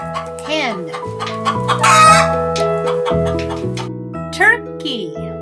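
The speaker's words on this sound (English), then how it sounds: "White Hen." A white hen clucks in short bursts over a bed of steady synthesized background music, fairly close and clear.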